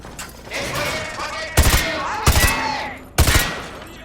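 Gunfire at a shooting range in the video game Call of Duty Modern Warfare 2, with several loud, booming bursts in quick succession over a noisy, echoing background and faint mechanical clatter between shots.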